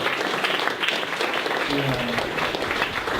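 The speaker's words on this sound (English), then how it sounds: "let's give him a quick round of applause" Audience applause at a digital analytics meetup, sending off a tall departing waiter, steady clapping across the whole stretch with a voice speaking over it partway through.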